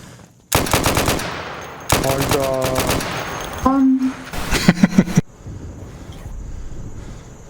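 Heavy automatic gunfire in the Insurgency video game, loud rattling bursts close by, with the firing stopping and restarting several times and a few single shots, while players talk over it.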